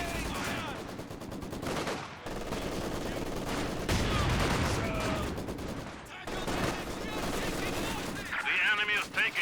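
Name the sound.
Maxim machine gun firing, Company of Heroes 2 video game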